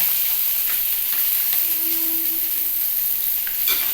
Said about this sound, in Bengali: উচ্ছে বেগুনটা ভাজা হয়েছে দিয়ে দিচ্ছি